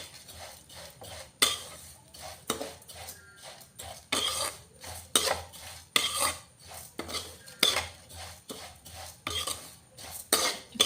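Vermicelli (semiya) frying in a pan over a medium gas flame as a utensil stirs and scrapes it, giving bursts of metallic scraping and clinking in an uneven rhythm, close and alone.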